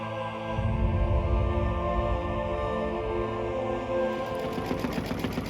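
A Babylock embroidery machine stitches out a dense Halloween design, a steady loud mechanical whir with rapid needle chatter that continues unbroken, with no talking.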